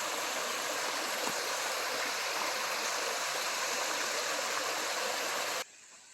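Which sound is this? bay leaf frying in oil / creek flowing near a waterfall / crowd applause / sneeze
creek flowing near a waterfall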